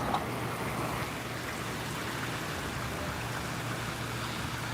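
Heavy rain falling during a storm, a steady broadband hiss of pouring water that stays constant and fairly close for the whole stretch, with a faint low hum underneath.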